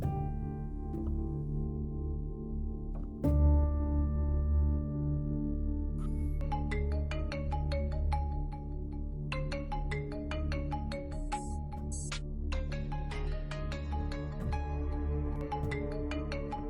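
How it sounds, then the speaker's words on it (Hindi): A phone ringtone plays a repeating electronic melody over a steady low background, continuing without pause for the length of the clip. "साईं का फोन।"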